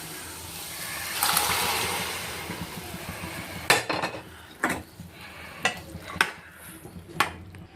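Boiled green peas tipped into a frying pan and stirred while making pani puri, with a soft rush as they land followed by several sharp clinks and scrapes of a spoon against the pan, close and fairly quiet.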